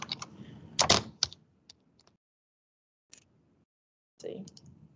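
Numbers being typed on a computer keyboard: a quick cluster of close, sharp key clicks near the start, a few isolated taps after, then a brief soft burst near the end.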